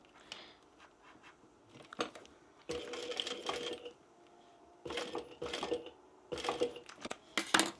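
A sewing machine top-stitches a bag in three short, quiet runs of rapid mechanical whirring, separated by pauses with small clicks and handling sounds.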